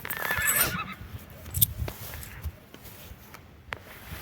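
A horse whinnies near the start, followed by a few faint snorts and scattered quiet outdoor noises; no one speaks.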